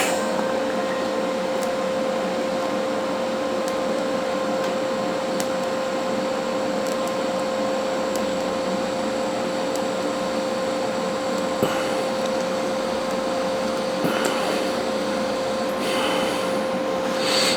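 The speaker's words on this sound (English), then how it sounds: "I'm just gonna weld a little bit, and I'm gonna let it cool down" Welding metal patches gives a steady, close buzzing hum with a constant tone that runs unbroken for the whole stretch, with occasional faint ticks and crackles and no speech.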